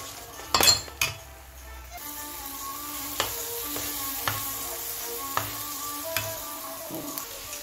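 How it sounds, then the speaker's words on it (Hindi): Egg noodles with spiced egg sauce stirred and fried in a pan over high heat give a steady close sizzle, broken by sharp clinks and taps of a utensil against the pan. "5 मिनट तक इसे अच्छी तरह तेज आंच पर हिलाते रहें"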